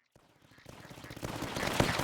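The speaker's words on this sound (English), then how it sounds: "that's where the LMG helps out" Light machine gun turret firing in Tower Dominion, a rapid run of shots starting faint and building louder over two seconds amid other battle noise.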